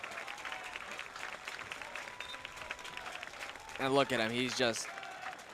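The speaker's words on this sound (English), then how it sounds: "Shady Omar getting a nice round of applause here at Eastern Stadium as he walks off with his 3 goals." Crowd applause at Eastern Stadium as a soccer player walks off after scoring three goals in a Lansing Common FC versus Inter Detroit match, a soft, distant patter under a commentator's voice.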